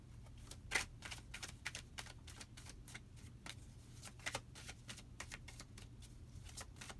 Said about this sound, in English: So I am going to start shuffling